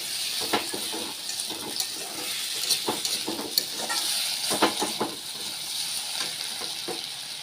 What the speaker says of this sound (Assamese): বেছি সময় নালাগে, আপোনালোকে ফ্ৰাই কৰি ল'ব